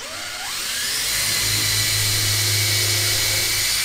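A power drill bores a bolt hole, its motor spinning up in the first half second into a loud, steady high whine that holds to the end, no talk.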